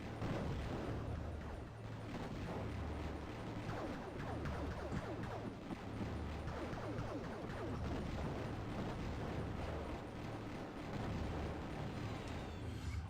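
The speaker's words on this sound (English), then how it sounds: "Let's go ahead and launch off one of these bombs right here." Bomb explosions in the shoot-'em-up game Raptor: Call of the Shadows, a dense, continuous wall of rumbling blasts and crackling bursts that stays loud for the whole stretch, with no talk.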